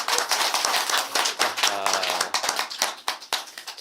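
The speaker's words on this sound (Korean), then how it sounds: "큰 박수 한번 주시죠" A studio audience on a Korean TV speech show claps in sharp, distinct hand strikes forming uneven applause, with a brief voice sounding over the middle.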